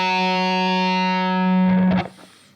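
A heavily distorted electric guitar sustains a single flat note with no vibrato for a few seconds, then a short scraping pick attack, while playing a riff.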